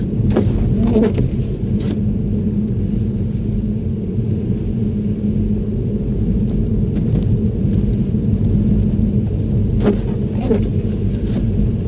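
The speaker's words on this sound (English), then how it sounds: "So with these winter tires, I'm able to maintain proper speed here, maintain the speed limit." Front-wheel-drive car on winter tires driving steadily along a snowy road, with a continuous low road and engine rumble throughout and faint intermittent clicks, no talk.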